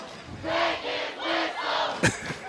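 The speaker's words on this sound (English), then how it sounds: "You can hear the crowd a little bit displeased on that one." A crowd at a high school football game between LaGrange and Troup voices its displeasure at a penalty, with broad waves of booing and shouting swelling twice before a sharp nearby knock.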